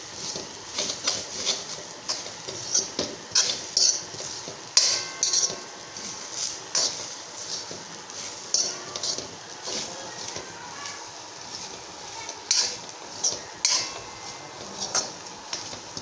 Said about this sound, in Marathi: मस्तपैकी या खोबऱ्याचा कलर चेंज होईपर्यंत आपण खीस परतून घेऊ